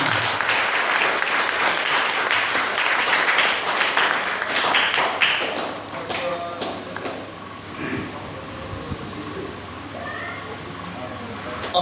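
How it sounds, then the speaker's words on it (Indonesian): An audience applauds at the opening ceremony of a church youth week in Sekadau, West Kalimantan, a dense burst of clapping that thins out after a few seconds into scattered claps and murmured voices. "Mari kita berikan tepuk tangan."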